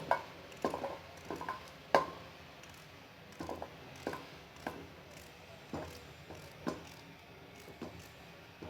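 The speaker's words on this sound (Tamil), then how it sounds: "இப்போ வந்துட்டு ரவுண்ட் ரவுண்டாக கட் பண்ணிடலாம்" A knife slices peeled radish into rounds on a board, giving a string of soft, irregular close chops and taps at a quiet level, with no talk.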